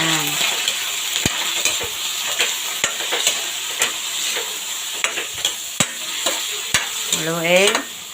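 Squid fries and sizzles in a hot pan for an adobo dish, a constant crackling hiss broken by sharp scraping and clinking strokes of a utensil stirring against the pan.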